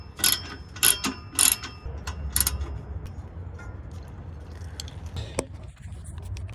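A ratchet with sockets tightens bolts on a 2004 Mazda RX8, sounding as several quick, close clicking bursts early on, then quieter scattered clicks and knocks over a low background rumble.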